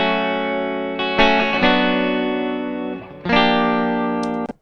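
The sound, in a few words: unprocessed electric guitar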